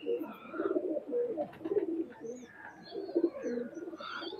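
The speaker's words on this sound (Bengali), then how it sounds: "একটা লাখা মায়া কবুতর।" A Lakha Maya pigeon, a Pakistani highflyer kept in a loft in Khulna, coos in repeated low, throaty phrases close by, with faint chirps from other birds mixed in.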